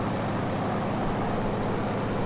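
Steady droning engine of a plane flying in Gunship III, a constant, even roar with no breaks.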